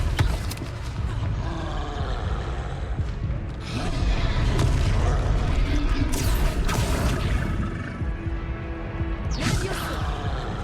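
Confringo fire spell blasts in Hogwarts Legacy, mixed with Levioso casting: loud booming explosions and whooshes in dense continuous combat noise, several bursts over the span.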